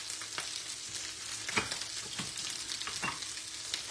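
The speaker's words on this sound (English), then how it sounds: "We're gonna put in some carrots." Carrots and garlic hit a hot pan and sizzle steadily, with a few sharper scraping stir sounds breaking through the frying hiss; no talk.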